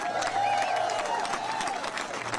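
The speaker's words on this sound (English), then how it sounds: "So give yourselves a big round of applause." An audience at a Texas House Democrats event in Boston breaks into steady applause, a fairly distant, continuous wash of clapping with a faint tone running through it.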